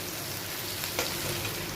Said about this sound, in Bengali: এইখানে আলু আর পেঁয়াজ একসাথে ভাজা হচ্ছে